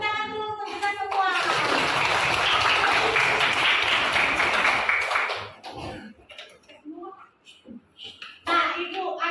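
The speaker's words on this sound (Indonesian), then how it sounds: "Tepuk tangan dulu untuk kita semua." A classroom of children claps together in a loud, sustained burst of applause for several seconds, then fades as an adult teacher resumes speaking.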